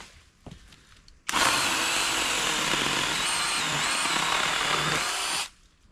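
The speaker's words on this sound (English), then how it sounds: "If I cut these logs and that little poplar right there" A power saw cuts through logs and a small poplar outdoors, a loud continuous whine starting abruptly after a quiet moment, running steadily for about four seconds, then cutting off.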